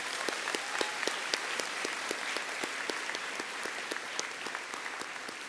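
A graduation crowd at Northlands Parkway Collegiate applauds a row of graduates: steady, dense clapping from many hands that holds at an even level throughout, with no voices rising above it.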